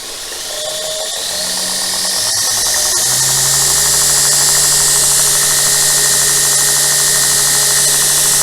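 A knife-making belt grinder spins up to a higher speed, its motor whine rising and steadying into a loud, continuous whir with a rushing belt hiss, heard up close without talk.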